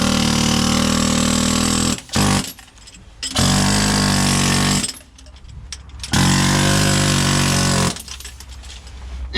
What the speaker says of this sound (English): So I'll show you the air gun first.